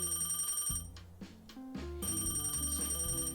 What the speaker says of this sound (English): Did my phone ring while I was asleep?